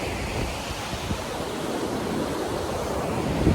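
Ocean waves and surf roar as a steady, broad wash of noise with slight wind buffeting, close and continuous, with no voices.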